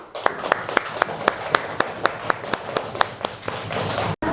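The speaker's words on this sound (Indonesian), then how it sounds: "kita kasih tepuk tangan untuk Alka" Classroom clapping for a pupil in an Islamic religious-education lesson, a handful of children striking hands in a fairly regular, slightly uneven beat, near and moderately loud, ending abruptly.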